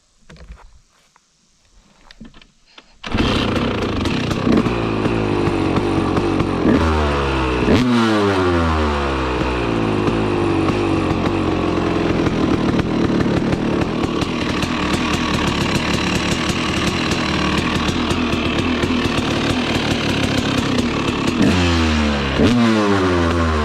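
A two-stroke motorcycle kicks into life after a few seconds of quiet and then runs loud and close, its buzzy exhaust rising and falling through repeated throttle blips.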